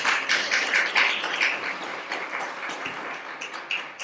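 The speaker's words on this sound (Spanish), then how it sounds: "Démosle fuertes palmas al Señor." A church congregation claps hands for the Lord during a Spanish-language sermon, a fast, bright burst of many palms that is loudest at the start and gradually thins.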